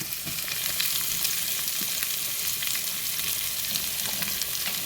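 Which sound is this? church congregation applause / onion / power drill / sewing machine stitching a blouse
onion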